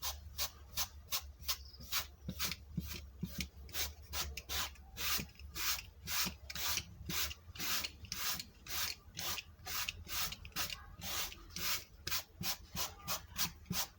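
A soft brush sweeps excess glitter off double-sided tape in quick, steady back-and-forth strokes, close and fairly quiet, repeating evenly throughout with no voices.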